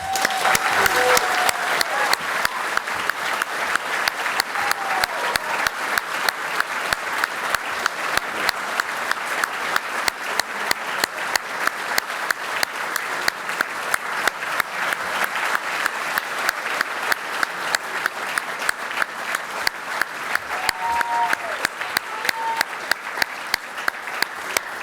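Sustained audience applause at a graduation ceremony honouring award winners, a dense, even wash of many hands clapping that carries on loudly for the whole stretch.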